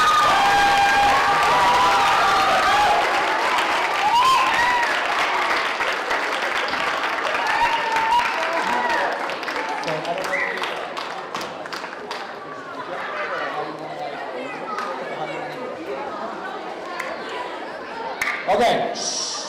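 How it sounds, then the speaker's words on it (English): Audience clapping loudly after a middle school choir performance, dense sustained applause with cheers and crowd chatter that gradually thins toward the end, with voices talking through it. "Let's have a round of applause for you guys, for everybody"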